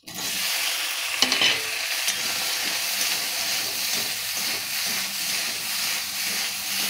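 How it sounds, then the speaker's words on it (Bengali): Okra (bhindi) fries in oil in a pan for a mixed vegetable dish, a loud continuous sizzle and hiss with a few stirring clatters near the start. "আর এরপর আমি ভেজে নিচ্ছি ভেন্ডিগুলো।"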